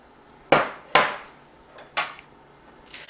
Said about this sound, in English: I'll need to stir that up some